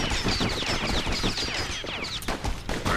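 Rapid dual-pistol gunfire in the video game Bastion, a dense, continuous volley of loud overlapping shots with no pauses across the whole stretch.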